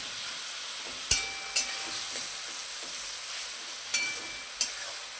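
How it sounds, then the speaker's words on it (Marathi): Tomatoes cooking in a pan for chicken biryani give a steady, quiet frying hiss, with a few sharp clinks of stirring scattered through. No one speaks. "चांगला टोमॅटो शिजवून घेऊया."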